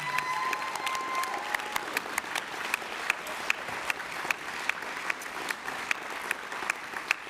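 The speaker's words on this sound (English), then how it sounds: "So give you all a round of applause to all of our bands." Audience applause at a brass band regional championship results ceremony, a steady wash of many hands clapping with scattered louder claps, sustained throughout.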